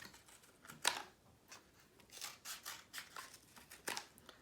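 Scissors snipping across a flattened cardboard toilet paper tube in a quiet room, a sharp close snip followed by a series of softer irregular cuts.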